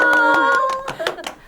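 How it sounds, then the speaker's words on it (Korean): A small audience claps a few quick, close, rhythmic beats at a casual Korean café-style gathering, under a sustained voice. "박수"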